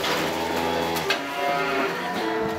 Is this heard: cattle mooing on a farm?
yes